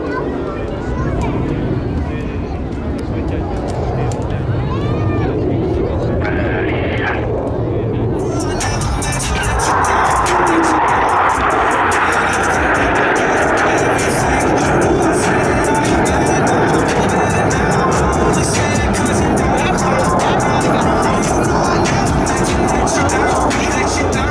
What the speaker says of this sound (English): all four pilots will simultaneously roll their aircraft 360 degrees as they perform the Diamond aileron roll